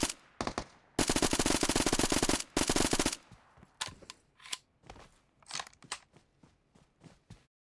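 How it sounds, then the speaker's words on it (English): Gunfire from the video game PUBG opens with a loud sustained burst of automatic fire, then breaks into irregular single shots and short volleys that gradually thin out. "Wait until you hear enemies shooting at each other"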